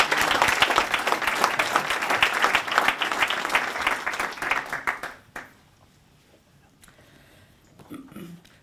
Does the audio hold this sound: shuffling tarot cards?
no